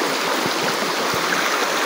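Water flows through a deep stretch of a stream, a constant close rushing wash with no talk.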